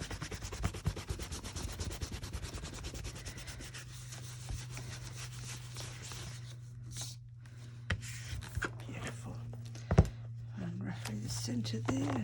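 A journal cover is buffed by hand, a steady soft rubbing and scuffing that runs through most of the span, close and fairly quiet, with a low hum beneath and a sharp knock near the end.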